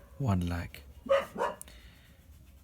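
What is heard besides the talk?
dog barking in the background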